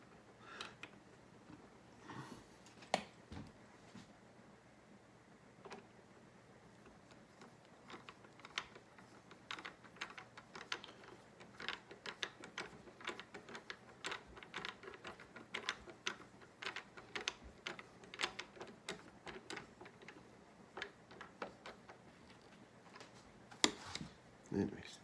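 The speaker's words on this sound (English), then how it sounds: "Now we just got to put these screws in." Screws being driven into a mandolin during repair, with faint irregular clicks and small ratcheting ticks scattered across a quiet background.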